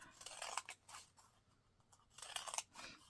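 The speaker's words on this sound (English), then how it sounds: "And you're going to cut straight lines up." Scissors snipping straight strips into old book pages, with crisp close cutting crunches in two clusters separated by a brief quiet gap, without any voices.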